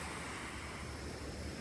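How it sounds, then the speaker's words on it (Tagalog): Heavy ocean surf pounds a private beach in a steady, unbroken roar of strong waves, with wind adding to the wash and no voices present. "Kaso lang, ang lakas ng alon."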